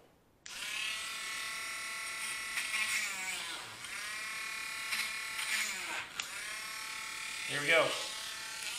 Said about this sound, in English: what I have is this Craftsman rotary tool, battery operated, using a VersaPack battery